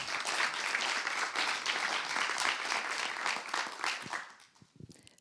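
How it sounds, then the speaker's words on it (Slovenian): An audience at a film directors' talk claps for a director, a dense round of applause that stays strong for several seconds before thinning out into scattered claps and a few voices. "Dajmo en aplavz."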